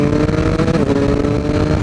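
A Triumph Speed Triple RS 1050 three-cylinder motorcycle roars loud and close under hard riding, its engine note steady and gritty with rapid quickshifter-driven revs that barely drop between gears.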